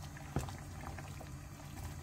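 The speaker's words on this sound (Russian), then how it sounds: "Макарики варятся" Pasta bubbles in a pot of boiling water on a home stove, a faint, steady simmering hiss with a single brief clink near the start.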